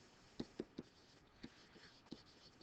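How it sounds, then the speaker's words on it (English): Pen writing during a math lecture on differentiability, faint scratchy taps and short strokes at an uneven pace, close and quiet. "Let me write that down."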